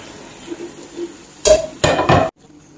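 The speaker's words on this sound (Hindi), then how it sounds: "ये पाए ऐड करूंगी।" Lamb trotters drop into a pot of gravy with a loud thud and a clatter, followed by two rough scraping bursts of metal on metal, then quiet.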